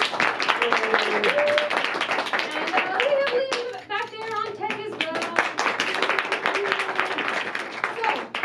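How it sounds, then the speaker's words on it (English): An audience at a live anime improv comedy show claps steadily throughout, a sustained round of applause. Someone talks over the clapping in the middle. "please round of applause for Katrina on the keys"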